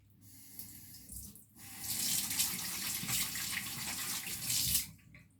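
A bathroom tap runs into a sink, turned on after a brief pause and flowing in a steady, close splashing rush for several seconds before shutting off.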